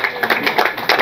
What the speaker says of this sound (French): nourrissez les applaudissements encore et encore.